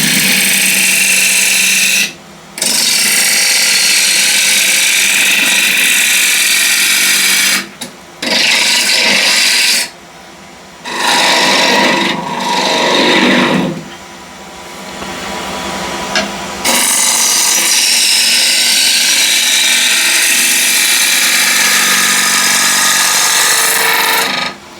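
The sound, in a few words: wood lathe turning with a ball gouge at 1400 RPM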